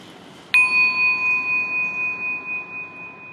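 A singing bowl is struck once and rings with a clear, sustained metallic tone that pulses slowly as it fades over several seconds, heard alone in a quiet room.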